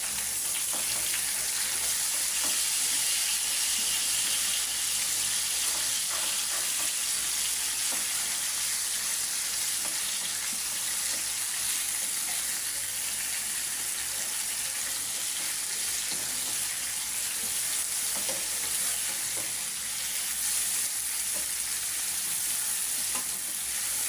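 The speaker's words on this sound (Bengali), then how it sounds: "এখন আমি মাছটা উল্টায় দিব" Fish fries in a pan beside two pieces of eggplant, making a loud, dense, continuous sizzle throughout with faint stirring and no voices.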